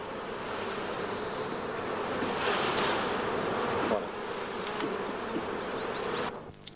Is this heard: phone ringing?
no